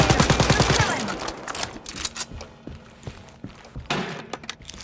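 Assault rifle gunfire in the Wolfenstein Youngblood video game, opening with a rapid burst of loud shots, followed by scattered individual reports and impacts amid busy game noise, with another burst near the end.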